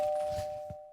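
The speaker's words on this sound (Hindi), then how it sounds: "तो डोरबेल कंटिन्यूअसली बज रही थी" A doorbell rings with a clear sustained electronic tone, heard close and alone, with a faint knock-like thump under it before the chime cuts off into silence.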